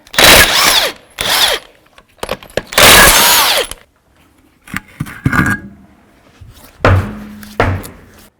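Impact wrench removing the wheel from a 1984-2001 Jeep Cherokee, loud close bursts of whirring and rattling hammering, several spurts of about a second each separated by pauses and small metallic clanks.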